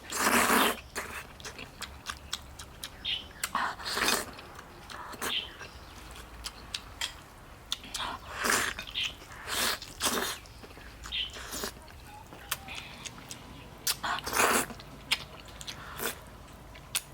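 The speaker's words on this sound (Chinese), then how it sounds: "吃猪脚哟！" Someone eats pig's trotters, with close wet bites, chewing and smacking sounds that come in irregular bursts amid quiet pauses.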